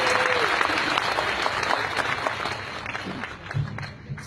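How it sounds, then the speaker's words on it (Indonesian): An audience at an Indonesian PayTren gathering with Ustad Yusuf Mansur applauds Pak Jahri, dense sustained clapping from a crowd that fades slightly toward the end. "tepuk tangan buat Pak Jahri"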